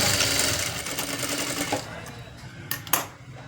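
A sewing machine stitches piping onto a blouse, a steady fast mechanical chatter running loud for about two seconds before stopping, followed by a couple of brief handling clicks.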